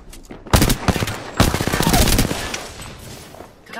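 Apex Legends gunfire rattles in rapid close bursts, loud at first then trailing into a long sustained stream of shots, with voices talking over the action.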